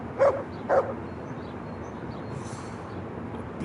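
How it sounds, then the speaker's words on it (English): Two short dog barks, about half a second apart, from a dog in the Kingdom Come Deliverance video game, moderately loud over a steady low background hum. "Bark."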